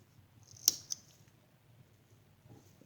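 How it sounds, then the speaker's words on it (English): Scissors snip yarn on a latch hook hummingbird rug, one crisp close cut followed by a second fainter snip in a quiet room. "I'm going to snip off this."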